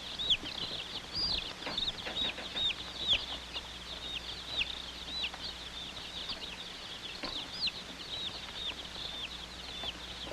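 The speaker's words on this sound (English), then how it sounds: "Fragile items like this box of chicks were put aside to be placed on top of the pile." A box of baby chicks set aside with other fragile mail, giving off a steady stream of high, rapid peeping chirps that keep going throughout at a moderate distance over a low background hum.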